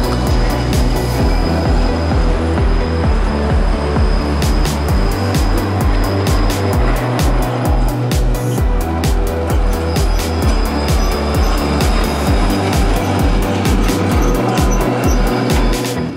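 A five-part Hermelijn low-floor multi-articulated tram with rigid bogies running through Antwerp, a loud continuous rumble with rhythmic clacking as wheels cross rail joints, heard up close without speech.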